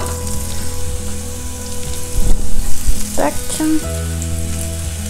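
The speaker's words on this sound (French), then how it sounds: "On va mettre les légumes à dorer." Vegetables browning in a hot pan for Thai-style noodles: steady, loud sizzling and frying that swells briefly as they are stirred, with a faint hum underneath and a short spoken word.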